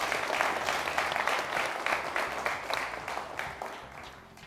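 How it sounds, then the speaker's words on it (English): A studio audience at TVC Lagos, Nigeria breaks into sustained applause, with close, thick clapping that fades only slightly toward the end. "A round of applause."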